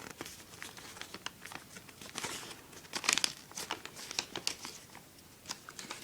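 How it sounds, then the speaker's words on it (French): Quiet crinkling and crisp creasing of thick, many-layered paper being folded firmly for an origami Ancient Dragon, with a string of short, sharp crackles and rustles close up. "Ici on a beaucoup d'épaisseur de papier, donc il faut plier très fort."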